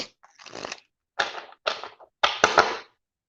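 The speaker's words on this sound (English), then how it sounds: "One more shuffle. We'll be good." A deck of tarot cards is shuffled in four or five quick, crisp bursts, each a short papery rush with brief gaps between, close by and with no talking.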